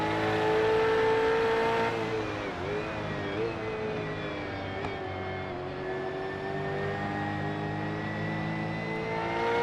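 A Supercars NZ race car engine revs steadily and loudly while warming up, its harmonic drone rising and falling throughout, with faint voices talking underneath.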